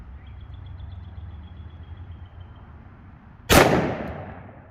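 A single loud gunshot from a 5-inch 1911 pistol firing 10mm ammunition cracks out sharply near the end, following steady low background noise, then decays quickly.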